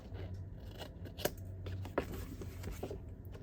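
Scissors cut paper for scrapbooking, with quick, close snips and a few sharp crisp clicks over soft rustling paper, fairly quiet throughout.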